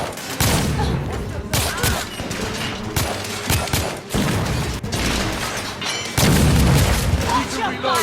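A battle in The Order: 1886 brings heavy gunfire, rapid volleys and booming blasts coming in loud waves with brief gaps, while voices call out between the shots.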